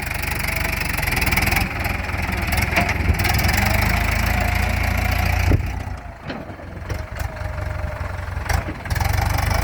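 New Holland TS90 tractor engine running steadily with a low, even rumble and slight knocking character, close and continuous with brief dips, no talking over it.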